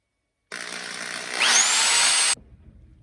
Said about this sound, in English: How about this electric drill?